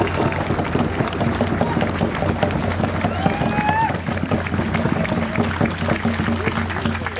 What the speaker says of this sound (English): give him a big round of applause for what he did for the family